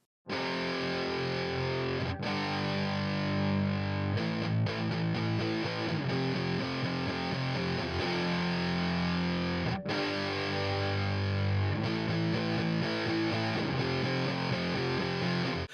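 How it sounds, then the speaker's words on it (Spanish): Distorted electric guitars play steadily for about sixteen seconds in a rock mix, loud and sustained with chord changes, a brief gap near the two-second mark and a short drop around ten seconds; no talking. "Ahora vamos a pasar a las eléctricas."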